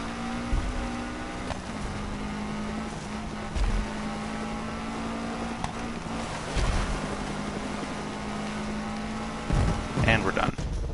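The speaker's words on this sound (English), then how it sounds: "I love the way Subaru engines sound." A Subaru engine in the racing video game Gravel: a steady, droning engine note that rises and falls as it revs, with occasional bumps and clunks over gravel and a voice talking over it.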